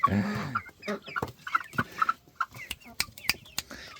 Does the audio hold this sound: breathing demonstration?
no